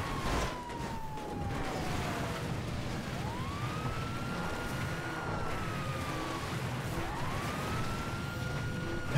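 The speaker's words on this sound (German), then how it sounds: "Hört ihr die Sirene?" A police siren in the video game GTA wails in slow rising and falling sweeps, steady and moderately loud over a low engine rumble.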